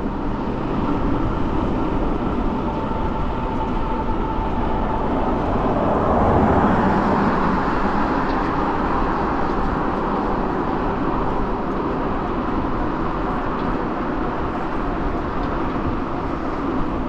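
Steady road traffic on Pacific Highway (99W), heard from an e-bike riding alongside the cars, a continuous broad roar with wind, swelling briefly as a vehicle passes close, no talking.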